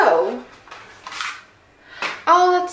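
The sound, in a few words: scissors cutting open a phone box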